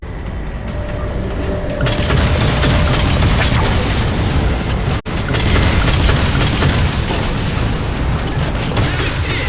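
A heavy explosion slams into the Mammoth vehicle in Halo 4, a loud sustained roar of blasts and rumbling debris with a sharp break midway, dense battle noise throughout.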